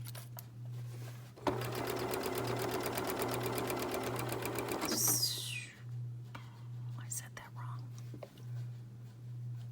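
A Janome MC9850 sewing machine runs a quick burst of rapid, even stitching for a few seconds, close and loud. A soft voice speaks quietly around it, and a steady low hum continues throughout.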